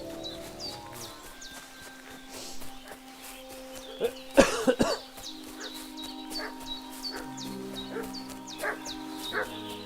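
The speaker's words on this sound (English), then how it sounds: "What's that dog making such a fuss about?" A dog barks repeatedly in a rural village setting in Kingdom Come: Deliverance 2, a burst of loud, close yelps and barks in the middle over a quiet game ambience with tonal music, then sparser barking.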